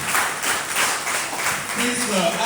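Wedding guests clap together in a steady burst of applause, broad and continuous and fairly loud throughout.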